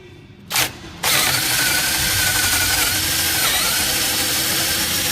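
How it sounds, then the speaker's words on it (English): A power drill drives a screw into wood and kicks as it hits steel: after a brief start and stop, the motor runs on in a loud, continuous, strained whine close by. "What I do when the drill starts kicking like that, I'll put my leg on this side of it"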